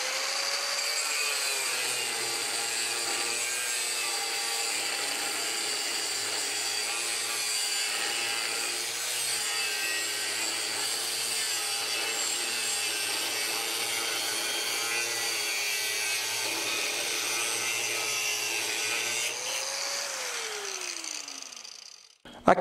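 A Wesco WS4740 4.5-inch angle grinder cuts through thick 1.5-inch steel angle iron, a loud sustained high-pitched grinding whine that runs steadily before the motor winds down at the end.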